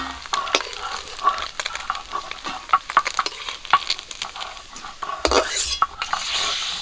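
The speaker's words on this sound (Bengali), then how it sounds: "বাকি মাছগুলো ভেজে নেবো" Bele fish fry in hot oil with a steady sizzle, broken by frequent metal stirring scrapes and utensil clinks against the pan, close and fairly loud, with no talking.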